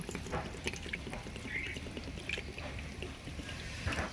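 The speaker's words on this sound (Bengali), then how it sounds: "আমি এবার কপিতে জল দিয়ে দেব।" Water poured over cut cauliflower in a bowl, a soft continuous trickle and splash with small bubbling, quiet and close.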